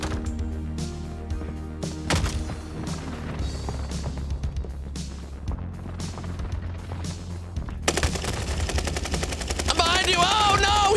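Rapid automatic gunfire from Call of Duty Warzone gameplay, bursts of shots rattling over a steady game soundtrack and background noise, growing busier and louder toward the end.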